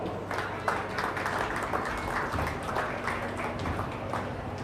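A crowd claps at a county fair sheep and goat show: a steady patter of moderate applause from the arena audience, with a faint low hum in the background throughout.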